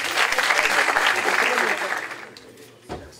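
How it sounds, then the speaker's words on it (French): An audience claps for two invited speakers at an alumni evening, a loud, full burst of applause that fades over the last second into a few scattered claps. "Vous pouvez les applaudir aussi."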